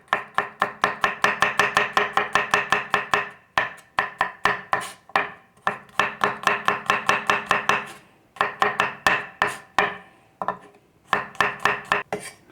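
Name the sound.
knife finely slicing garlic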